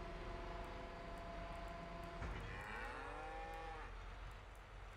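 In the Farming Simulator 22 farm game, cattle give one drawn-out moo from a pen nearby, heard quietly over a low steady background hum.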